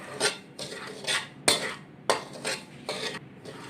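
Ground almonds are stirred into a sooji sweet mixture in a pan, with about eight rhythmic scraping strokes of a spoon against the pan, close and moderately loud.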